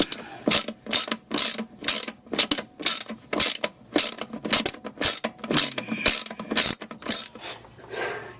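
A ratchet with a 1/2 inch socket works a clip off near a car's firewall, clicking in a close, steady rhythm of crisp strokes that slow slightly toward the end.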